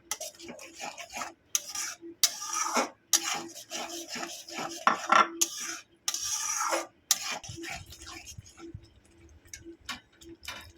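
A spoon scrapes and rubs through spice paste for doi rui (Bengali curd rohu fish) as it is sautéed in a pan, giving rough bursts of scraping with short pauses, close and moderately loud.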